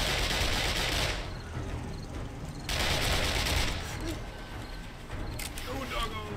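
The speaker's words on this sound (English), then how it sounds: "This SMG is not even phasing them right now." Sustained SMG fire in the video game 7 Days to Die during a nightmare-difficulty horde night against zombies; dense, rapid automatic bursts in several long stretches, loud and close, with brief lulls.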